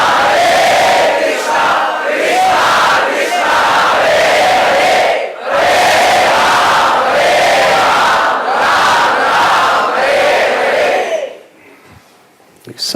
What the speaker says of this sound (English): chanting the holy names.